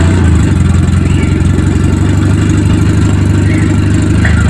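A sports car engine runs at a steady, deep idle, loud and close, with a continuous low rumble and even pulsing throughout and no voices over it.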